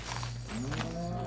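A single cow moos, a low drawn-out call that rises in pitch, heard over a steady background fan hum.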